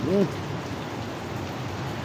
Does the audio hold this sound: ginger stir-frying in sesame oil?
no